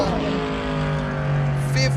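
A race car at a hill-climb event runs at full throttle past the finish line, a loud sustained engine drone with a slowly shifting pitch and a brief higher whine near the end.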